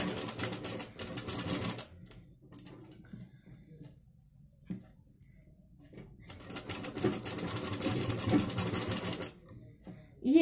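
Sewing machine stitching piping onto a blouse, running in two long rapid bursts with a quieter pause between, close and fairly loud.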